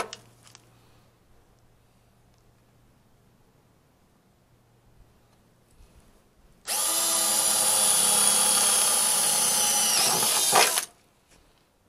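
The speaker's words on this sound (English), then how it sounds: "I'm using my dad's drill because mine's indisposed inside the house." A cordless power drill runs in one sustained whirring burst of about four seconds, fairly loud and close, after a stretch of quiet outdoor background.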